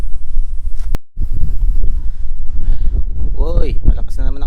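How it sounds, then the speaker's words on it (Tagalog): Strong wind gusting across an open rural field, rumbling and buffeting against the microphone in a steady roar while someone talks over it. "Uy, malakas na naman ang hangin."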